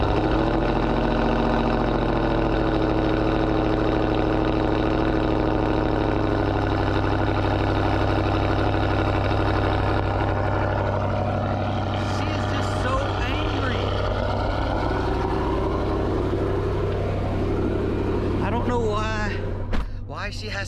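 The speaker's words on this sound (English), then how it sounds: "thought we'd start this one off with a cold start" A ProCharged supercharged 2020 Dodge Charger Scat Pack fires up from cold and settles into a loud, steady rumbling idle with supercharger whine that holds for the full twenty seconds, close by.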